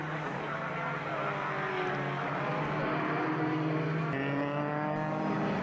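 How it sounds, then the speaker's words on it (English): A Formula BOSS race car's big engine roars at a wet Irish circuit during a 2021 round, a loud, continuous drone with shifting pitch as the car approaches over a hill, no talk. "What's that coming over the hill? It's Mullins' monster engine Gould"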